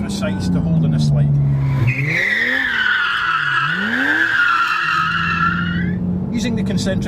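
A Porsche 911 GT3 slides with its tires squealing loudly and continuously, the tone wavering as the slide is held and balanced, while the engine's note rises and dips underneath.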